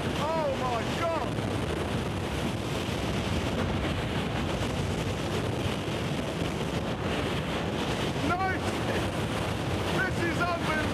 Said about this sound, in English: that's the sort of wind speed when you start getting trees uprooted